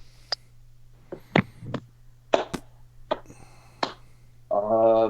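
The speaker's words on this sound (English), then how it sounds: "Slow clap." A slow clap of a few sharp, separate hand claps spaced irregularly in a quiet room over a low steady hum, ending with a brief voice.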